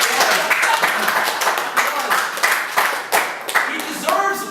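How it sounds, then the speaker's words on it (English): Applause for Matt Farley, a dense patter of many hands clapping at steady loudness throughout, with a few sharper individual claps standing out near the end. "He deserves applause."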